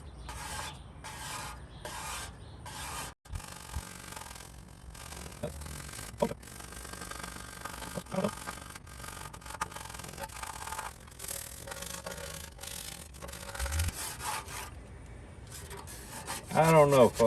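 Scraping and rubbing at softened finish on a vintage 1948 Youngstown Kitchens by Mullins porcelain sink, a steady rasping scrape with short pauses, close and moderately loud, with a few sharper strokes near the end.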